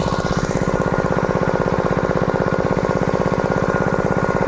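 A small machine engine runs steadily in a paddy field, a loud, even, rapid chugging putter with no pauses, close by and alone without talk.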